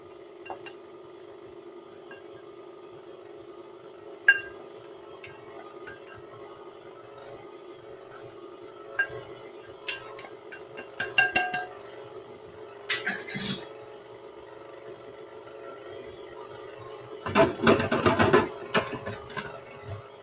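A stand mixer churns peanut butter cookie dough with a steady low mechanical whir throughout, while a spoon clinks and scrapes against the bowl as flour is spooned in, with a louder burst of clatter near the end.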